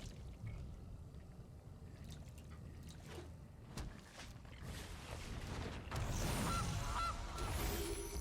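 Goose honks from the MTG Arena card game sound into a noisy, cluttered mix, with a louder honking burst near the end over a steady mechanical background.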